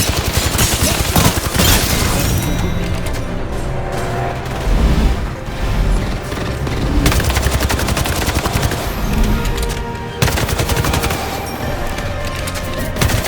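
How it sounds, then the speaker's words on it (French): Rapid automatic gunfire in the Apex Legends video game, dense bursts of shots nearly continuous and loud, with brief gaps and heavy booms between volleys. "Je me fais tirer dessus."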